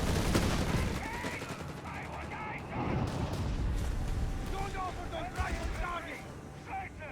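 Machine guns fire in a Company of Heroes 3 battle, with bursts and scattered shots crackling under loud continuous commentary amid other battlefield explosions and rumble.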